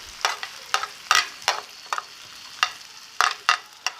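Tomatoes and cabbage stirred in a hot pan, sizzling steadily while a spatula scrapes and clatters in irregular bursts of about nine sharp strokes, close and moderately loud with no talking.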